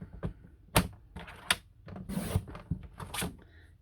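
Olive cardstock being trimmed for a stamped flower card makes a series of crisp, close clicks and short slicing swishes, irregular and fairly quiet, with no voices.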